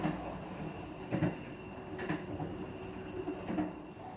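Malioboro Express economy-class passenger train running, a steady low rumble inside the carriage with a few brief louder knocks and rattles, no voices.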